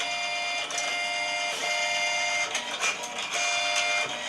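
A printer runs continuously, whirring with rhythmic mechanical clicks and feed sounds, close and fairly loud, with no talking.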